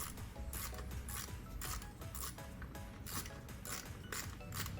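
A ratchet tightens screws on the vapor canister purge valve assembly of a 2020-2024 Ford Escape ST-Line 1.5L, a steady close run of rapid, rhythmic clicks with no talking.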